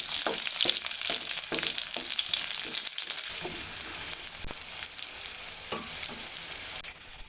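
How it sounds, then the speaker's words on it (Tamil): Chillies and garlic sizzle in hot oil as a tempering for tomato pickle, with mustard seeds popping. A loud, steady hiss runs throughout, broken by sharp crackles and pops before it fades at the end. "பூண்டு போட்டு தாளிச்சுக்குவோம்."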